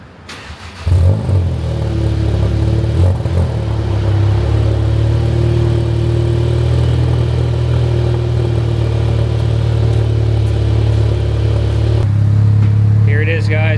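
Volkswagen MK7 GTI with a newly fitted XFORCE exhaust cranks and fires up, then settles into a loud, deep, steady idle close by with a brief rev, and a voice speaks near the end.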